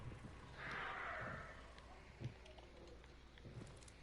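A horse whinnies once in the video game Hunt: Showdown, a faint, drawn-out call over quiet ambience with a few soft thumps and faint speech.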